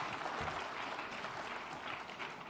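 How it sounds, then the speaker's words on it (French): Steady applause from an audience at an award ceremony, a dense and even wash of clapping held throughout with no pauses. "On vous applaudit encore"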